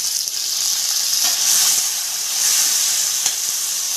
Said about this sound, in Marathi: एक मिनिटभर टोमॅटो पण आपल्याला तेलावर परतून घ्यायचं आहे